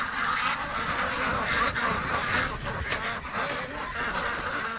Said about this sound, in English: Oh, that's a lot of ducks.